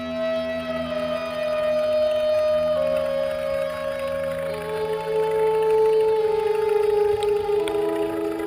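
Long, sliding tonal whale calls from an ocean documentary, rising and falling moans that hold steady and echo through the water, alone and fairly loud with no talk.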